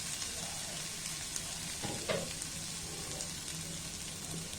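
Macaroni stirred with red chilli sauce in a hot pan gives a soft continuous sizzle, with a spoon scraping and shifting the pasta now and then, fairly quiet and with no talking.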